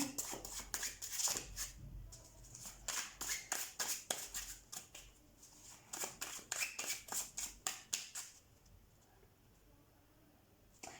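A deck of tarot cards being shuffled by hand in repeated quick riffling bursts, crisp papery flutters and taps close to the mic, pausing briefly between rounds, with faint room tone underneath and no talking.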